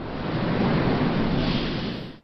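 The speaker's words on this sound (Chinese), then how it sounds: "突然，一朵大大的浪花拍过来" A big sea wave crashes in a loud, dense rush of surf that swells, holds for about two seconds and then cuts off abruptly, with no voices.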